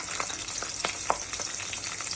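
Green chillies and curry leaves frying in hot oil for tamarind rice, a steady crackling sizzle with scattered sharp pops, moderately loud and without speech.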